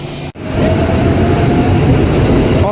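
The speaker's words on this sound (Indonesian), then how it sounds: "sudah masuk ke jalur 10 komuter lain tujuan Jakarta Kota" A KRL commuter train bound for Jakarta Kota pulls into platform 10 at a station late at night, its loud steady rumble and rolling wheel noise filling the air right after a brief dropout.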